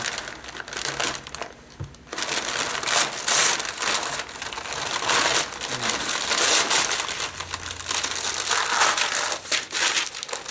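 Padded packaging around Jetovator water jetpack parts is unwrapped in a steady run of close crinkling and crushing, with brief soft taps and rustles throughout and no talking.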